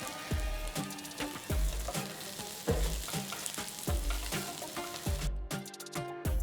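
Oil sizzles and crackles steadily in a pan as cinnamon, cloves, cardamom and onions fry for brinjal curry, with rhythmic scraping and stirring strokes repeating close by.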